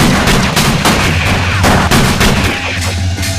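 Gunfire in a Fear Effect PS1 video game cutscene: a loud, dense volley of rapid shots sounding close and continuous over about three seconds, with no voices.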